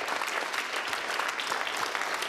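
Audience applause in a hall for a singer at a 2013 Advent concert in Trenčianske Teplice, a dense, steady clapping that fills the whole stretch without a break.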